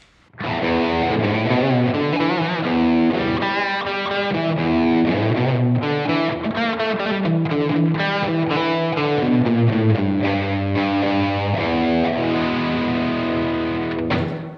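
Electric guitar through a Blackstar Dept. 10 Amped 1 pedal with a gain pedal stacked on top, continuous gritty chords and riffs played loudly and steadily throughout, with no talking.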